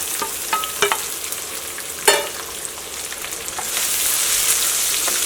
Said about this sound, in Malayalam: ഇതിലേക്ക് നമ്മൾ കട്ട് ചെയ്ത് വെച്ചേക്കണം നമ്മുടെ സവോളയും ഇഞ്ചിയും പച്ചമുളകും വെളുത്തുള്ളി.